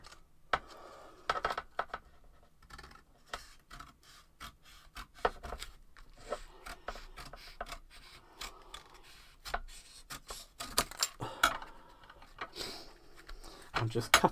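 Scissors snip and crunch through paper in a quick irregular series of close, dry cuts, with some rustling between them.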